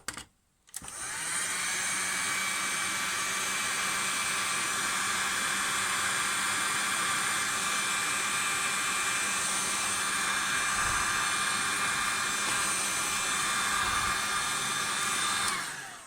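A heat gun blows hot air to shrink heat-shrink tubing over a capacitor while repairing a RACAL Syncal TRA.931 18V regulator, giving a loud, steady broadband roar that starts after a brief pause and runs unbroken.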